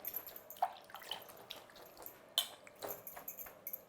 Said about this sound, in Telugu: ఈ పక్కది కూడా అంతా నీళ్ళు చల్లేసినామంటే ఈజీగా ఒకే పారి వచ్చేస్తుంది